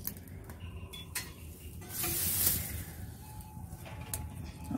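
Refined oil heats in a hot kadai for frying pumpkin flower pakoras while a spoon stirs it, producing a faint continuous sizzle with light scraping and occasional metallic taps, quiet and close.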